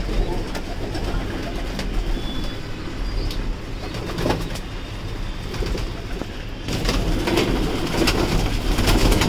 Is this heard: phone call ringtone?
no